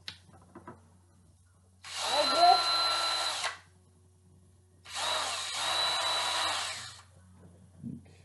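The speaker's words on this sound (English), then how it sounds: "Okay, so Dad's gonna drill these in." A power drill bores pilot holes into the sole of a Jordan Infrared 23 golf shoe, two separate whirring runs of about two seconds each, close and loud, with quiet pauses between them.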